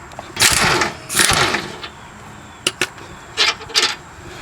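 An impact wrench works an 18mm bolt on a control arm bushing of a 2008-2013 Nissan Rogue, firing in two longer hammering bursts followed by several short rattling pulses, loud and close.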